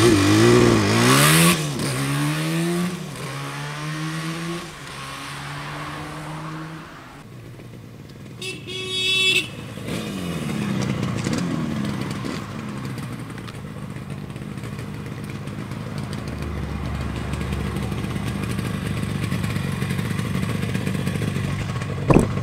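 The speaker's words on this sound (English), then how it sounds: "This is Yamaha's RD350, 6-speed, twin-cylinder, two-stroke rocket ship." A 1974 Yamaha RD350 six-speed twin-cylinder motorcycle engine revs and idles nearby with a rough, buzzy two-stroke note, rising and falling in pitch, with a brief horn-like toot early on.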